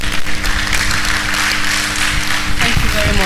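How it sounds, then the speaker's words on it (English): Audience clapping at an International Women's Day celebration in 2024, a sustained wash of applause from a crowd, with voices heard over it. "Please keep clapping for her."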